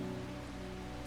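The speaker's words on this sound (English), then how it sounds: "Sounds like it's raining." Rain falling in the video game Strange Horticulture, a soft continuous patter over a steady low tonal hum, brief and fairly quiet with no speech.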